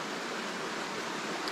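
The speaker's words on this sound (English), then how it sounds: "I'll get away from this water sound and get some voices heard." River water from mountain runoff rushes in an unbroken, even hiss, a dense close flow with no pauses and no voices.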